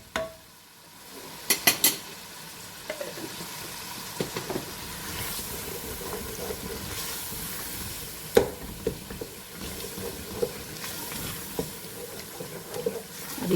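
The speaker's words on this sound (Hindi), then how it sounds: "अब इसे हम भूनेंगे थोड़ा सा।" Beef trotters in a yogurt masala fry and get stirred in a pan, with a low sizzle under scattered spoon scrapes and occasional sharp knocks against the metal, heard close with no talking.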